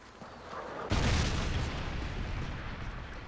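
A Predator missile from Call of Duty: Modern Warfare 3 strikes on the Erosion map, a sudden loud boom that rolls into a sustained, rumbling roar of blast and debris.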